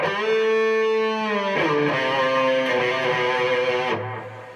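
Distorted electric guitar plays a section of a solo: a few sustained, saturated notes that shift pitch and ring out alone, close and loud, before dropping to a lower held note.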